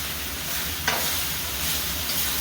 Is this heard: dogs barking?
no